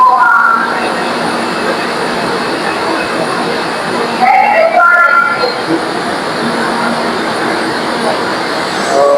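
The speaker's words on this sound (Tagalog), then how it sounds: "At andito na nga yung train namin." Commuter train pulling into a crowded Quezon City station: a loud, continuous rumbling wash with squealing brake tones and a brief clank midway.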